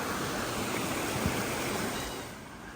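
A small creek swollen after rain rushes steadily and quite loud in a sheltered patch of bush, a continuous broadband wash of flowing water with no voices.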